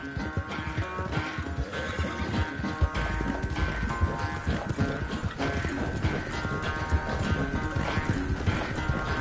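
In the Red Dead Redemption video game, horse hooves clip-clop in a steady, busy rhythm across the whole stretch. A whinny and game background sounds mix in, loud and close.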